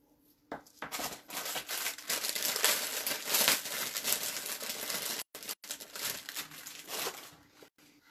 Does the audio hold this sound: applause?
no